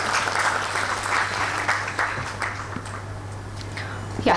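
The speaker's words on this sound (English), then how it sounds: "A big round of applause to all of you as well." An audience at a school event for a grade 5 class gives a round of applause, with dense clapping that slowly thins and fades before a brief burst at the end.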